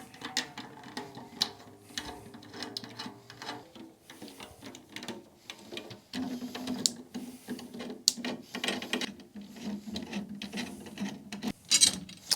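Snare drum tension rods being loosened to remove the drum head, with close metallic ratcheting, clicks and scraping that come in an irregular series, no voices.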